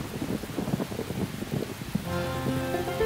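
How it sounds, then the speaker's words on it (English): Heavy rain pours down at an outdoor country music festival, a dense patter of drops hitting surfaces, with a steady tonal hum rising underneath in the last second. "the sky let loose and the rain came, and came, and came."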